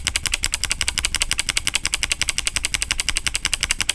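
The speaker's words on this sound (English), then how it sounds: "Let's see how this glazed green Switch sounds inside a board." Fast, steady clicking of a mechanical keyboard fitted with Kailh Box Glazed Green clicky switches on a plate-mounted board, with dense, sharp, evenly spaced keystrokes at close range, heard alone with no talk.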